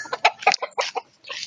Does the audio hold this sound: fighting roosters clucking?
yes